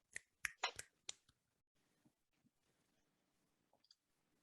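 A handful of sharp finger snaps from a conference audience pop close together at first, then thin out into a few scattered, quieter snaps in a hushed room.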